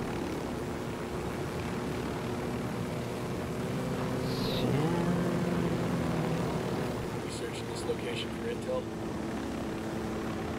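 An aircraft comes in to land in Ghost Recon Wildlands: a steady engine drone and rotor hum hold throughout, with a pitch that sweeps and shifts midway as it descends, and faint voices sit beneath.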